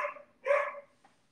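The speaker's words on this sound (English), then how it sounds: "I don't know what she's barking at" A pet dog barks indoors in short sharp bursts, a couple of quick yips followed by one louder bark and a faint trailing yelp, heard alone without talk.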